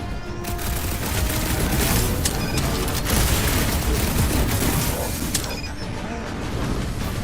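Rapid sniper gunfire and battle effects from the video game Guardians of the Galaxy, a dense, loud, continuous barrage of shots and impacts with mechanical clatter, layered over game sound.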